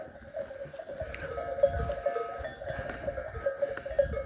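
Sheep on a farm make faint, scattered bleating calls mixed with light bell clinks, heard at a distance with no talking.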